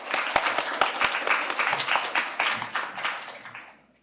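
A small crowd at a children's council plenary session claps together, a dense burst of hand claps that builds and then trails off to silence near the end.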